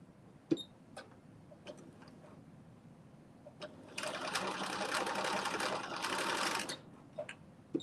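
A home sewing machine runs in one steady stitching burst of a few seconds, with quiet handling clicks and taps before and after.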